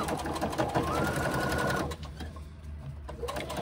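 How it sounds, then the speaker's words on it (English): A sewing machine stitches and bastes a 1/8 inch seam in a steady, rapid run of needle strokes that stops partway through, leaving quieter room sound afterward. "you are then going to go to your machine and you are going to actually stitch and baste that in place with a 1/8 inch seam"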